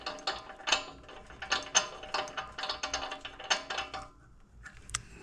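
Piston stop tool screwed by hand into the spark plug hole of a Lambretta TV175 scooter cylinder head, giving quick, close metallic ratcheting clicks in a steady run, then a brief pause and one last click.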